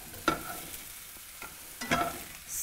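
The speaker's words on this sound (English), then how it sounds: "Stir them in and cook for probably about another 3 minutes until they've just started to colour." Courgettes and browned butternut squash stirred in a hot pan for a summer stew, with a few distinct utensil scrapes and clatters over a soft background sizzle, close and fairly quiet, no talking.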